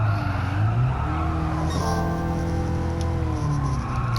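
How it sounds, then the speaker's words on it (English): Toyota Aqua S hybrid car in the Gran Turismo 7 racing game, its engine note dropping away as the throttle lifts, a steady droning hum with faint tire scrubbing throughout, continuous and fairly loud with no talking. "When you get off the throttle, it almost sounds like the engine cuts off"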